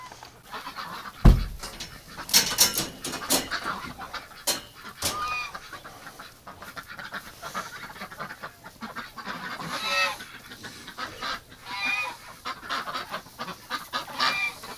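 Domestic ducks outdoors in winter calling with loud honking and quacking, several overlapping birds close by in irregular bursts, with scattered sharp clucky notes.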